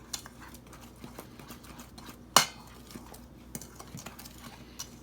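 Dry pancake ingredients with sea salt being stirred in a bowl: light clinks and taps of a utensil against the bowl, with one sharp louder knock partway through, close and otherwise quiet.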